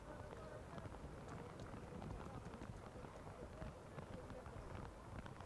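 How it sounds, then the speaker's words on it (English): Steady rain pours down on an outdoor athletics stadium under floodlights during a para athletics world championship evening session in New Delhi, a dense continuous hiss and patter filling the whole stretch with no speech. "As the rain comes down here"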